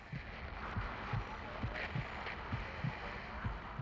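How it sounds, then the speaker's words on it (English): A slow, steady heartbeat thumps in Call of Duty Modern Warfare, low dull beats repeating about every half second over a hissing, static-like background. "Just have your heartbeat vibrating through your controller, some radio static."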